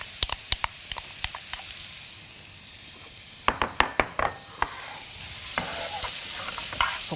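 Onion and carrot stir-fried in cooking oil in a pan, with a continuous sizzle punctuated by sharp clacks of a utensil stirring and scraping, some in quick clusters.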